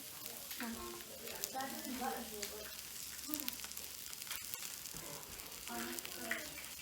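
Floured fish sizzling steadily in a hot pan during a filleting and cooking session, a continuous crackle with some clattering and a person talking over it.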